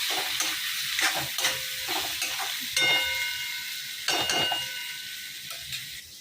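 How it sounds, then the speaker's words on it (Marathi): Chopped onion and tomato frying in oil in a pan, a steady close sizzle broken by several scraping stirs and brief bursts of hiss, with no talking. "यात आपण आता टमाटर घातला आहे आणि टमाटरला पण थोडंसं तेला भाजून घ्यायचं"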